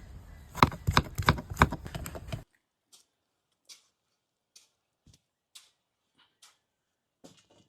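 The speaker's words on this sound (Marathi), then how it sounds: "आपण टमाटर कट करून घेऊ।" A knife chops tomatoes on a cutting board in a village kitchen, preparing karela bhaji: a quick run of loud, rhythmic close cuts, then a few sparse, faint single taps with silence between.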